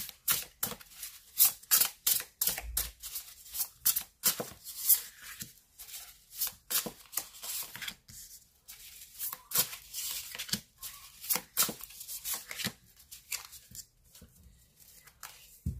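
A deck of tarot cards is shuffled for a cross spread, giving a long run of rapid, papery flicks and light slaps. The sound is steady and irregular, close and fairly soft, with no voices.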